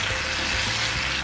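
Vegetables are stirred in a pan of green sauce, giving a steady close sizzle with soft scraping and liquid sounds throughout, no talking.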